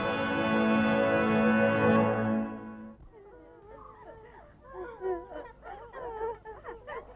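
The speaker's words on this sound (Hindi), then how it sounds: "भूख के मारे सारे बच्चे रो रहे हैं" Several children cry and wail together in a dramatized scene; a steady, loud, sustained wail for about three seconds gives way to broken, uneven sobbing and whimpering cries that continue close by.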